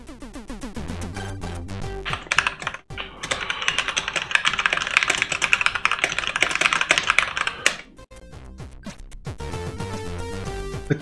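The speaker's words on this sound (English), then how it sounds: "The keyboard I'm using is a Magic Force 84 key?" Continuous rapid typing on a Magic Force 84-key mechanical keyboard, dense clattering keystrokes close up, with a couple of brief pauses and no voices.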